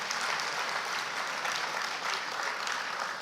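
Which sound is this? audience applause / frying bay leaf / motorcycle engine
audience applause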